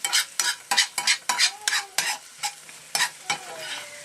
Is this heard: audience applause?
no